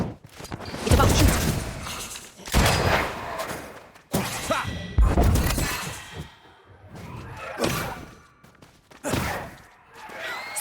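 Heavy ghostly blasts and crashing impacts from an enemy shooting in Banishers: Ghosts of New Eden strike in several loud bursts spaced a couple of seconds apart, with spoken dialogue between them.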